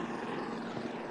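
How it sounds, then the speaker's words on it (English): A brief, steady news helicopter drone, a dull rumbling engine sound that holds level for about a second. "We have Robert on the scene now in the news helicopter."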